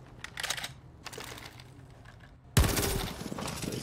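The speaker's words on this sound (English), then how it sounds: "Although there is some gunfire, so he does know someone's there." Gunfire in a Rainbow Six Siege match, heard as a dense burst of rapid shots that starts loud and close partway through, after quieter scattered popping and faint background game noise.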